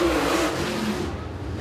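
Super late model race car lapping Eriez Speedway at speed, its engine roaring loud and steady for the whole moment with no pause.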